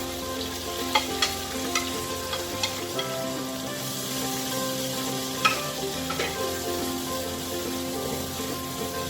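Onion, capsicum and spring onion sizzle and crackle as they are stir-fried in a pan for a chicken manchurian and fried rice dish, with a steady frying hiss, a faint hum beneath and sharp scraping stirs punctuating it.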